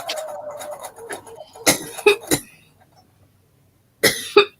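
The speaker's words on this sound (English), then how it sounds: "all of a sudden I started coughing" Several harsh coughs from a person working with fabric dust while quilting, a scattered burst early on, a cluster around the middle and two more near the end, loud and close, with faint background noise between them.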